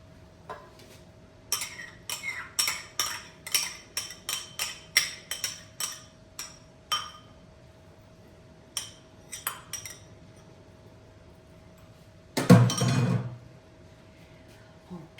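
Raw cat food ingredients are mixed in a bowl: a quick run of light metallic clinks and taps from a utensil, then sparser knocks and one louder, denser scraping burst near the end.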